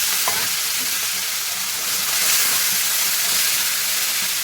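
Curry leaves and coriander fry in hot oil in a pan for an amaranth dal dish, making a loud continuous hissing sizzle up close with no talking.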